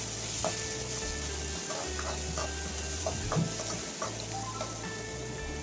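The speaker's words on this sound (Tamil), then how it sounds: "இப்போ வெங்காயம் வந்து நல்லா கோல்டன் ப்ரௌன் கலராக வரணும் அது வரைக்கும் எண்ணெயிலையும் நல்லா வதங்கட்டும்" Onions sautéing in oil in a pan until golden brown for a broad bean kuzhambu, a constant close hiss and crackle with a low hum underneath and a few light clinks, no talking.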